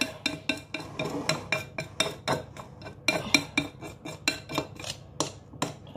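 A little teaspoon scrapes and clinks rhythmically against the sides of a bowl holding cake ball mixture, with many quick, close metallic taps and no talking.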